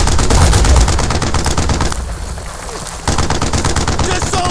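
Rapid bursts of automatic gunfire rattle loudly and continuously in the World War II shooter Brothers in Arms: Earned in Blood, easing briefly before resuming, with shouted voices mixed in.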